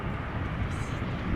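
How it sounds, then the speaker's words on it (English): An arriving airliner at Amsterdam Schiphol Airport roars close overhead as a broad, steady engine rush with a low rumble, loud and unbroken for the whole short moment. "the noise made by these airplanes"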